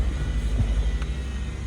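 A Honda Civic engine runs steadily after a stalling problem is worked on, a low continuous rumble that holds even and fairly close throughout, with no talk over it.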